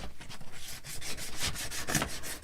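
Sandpaper rubs on wood in quick, even back-and-forth strokes, a soft scratchy rhythm repeating steadily at close range.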